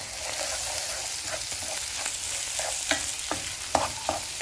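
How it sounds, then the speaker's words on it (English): Tripe with salt is stirred in a pot over steady sizzling, with repeated close scrapes and knocks of the spoon against the pot's sides. "Then I'm going to give it a good mix."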